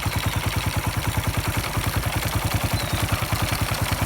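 A freshly restored engine idles on its first run, chugging in a steady, even pulse of regular firing beats with a rattly mechanical clatter, close up and loud with no voices.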